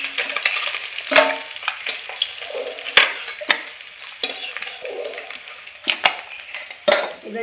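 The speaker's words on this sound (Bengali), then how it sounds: "মাছটা আমি একটু কড়া করে ভেজে নিয়েছি," Pond fish fries crisp in oil in a pan, a bright continuous sizzle close by, punctuated by sharp scraping and tapping strokes of a spatula several times, with no talking.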